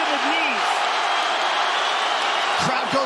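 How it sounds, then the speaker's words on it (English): A packed arena crowd at UFC 229, Conor McGregor against Khabib Nurmagomedov, roars steadily and loudly as a sustained wash of cheering, with a commentator's voice briefly over it. "Crowd goes bananas as McGregor gets upright"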